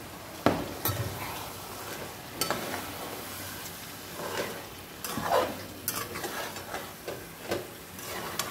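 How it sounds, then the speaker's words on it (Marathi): A spoon scrapes and clinks against a pot while egg biryani is stirred, with soft sizzling underneath and irregular metallic knocks, close up and quiet. "ह्या प्रकारची आपली हलवून घेतली बिर्याणी मी आता."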